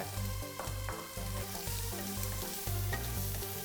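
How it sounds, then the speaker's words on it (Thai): Three-colour bell peppers sizzle and scrape in a hot wok with rhythmic tossing and stirring, a close, busy frying sound with no talking. "ผัดให้เข้ากันแล้วกระดกกระทะอย่างโปรเฟชชั่นอล"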